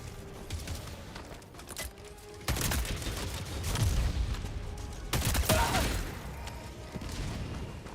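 Rapid salvos of missile swarm launches and impacts in Helldivers 2 at Helldive difficulty, dense booming bursts in waves, loud and close, with no talk.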